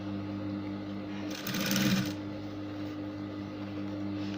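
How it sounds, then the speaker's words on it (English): A domestic sewing machine stitches a pleated second ruffle layer onto a blouse, its steady mechanical hum and tonal whir swelling louder for about half a second mid-stretch before settling back to a constant drone. "as I'm sewing the second layer right now"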